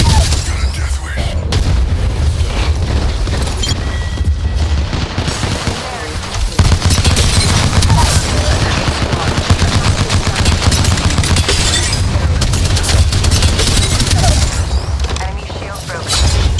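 Dense gunfire and booming blasts fill a ranked match of the video game Apex Legends in Kings Canyon, loud and continuous, with game voice lines spoken over the shooting.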